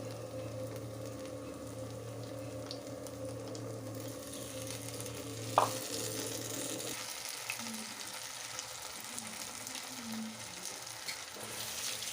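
Potato-coated fasting snacks crackle steadily in hot oil for the whole stretch, a soft continuous sizzle with a brief sharp clink midway and lighter bubbling later, no voices.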